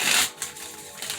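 Tarot cards shuffled by hand during a monthly Virgo reading, a crisp riffling burst up close followed by softer flicks and slides of the deck.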